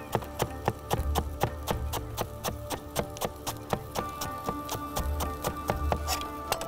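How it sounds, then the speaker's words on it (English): A knife chops finely through fresh coriander stalks on a board, with rapid, evenly spaced crisp taps in a steady rhythm, close and clear, with no talking. "And now we shall finely chop it."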